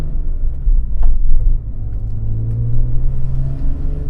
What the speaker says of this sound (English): Inline 6 sounds great, and throttle response is really surprising.